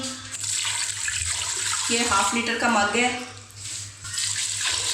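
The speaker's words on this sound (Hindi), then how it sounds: "अब इसके अंदर हम डालेंगे पानी" Water pours from a half-litre mug into spiced masala in a cooking pot, a steady splashing gush lasting a few seconds up close, with someone speaking briefly over it.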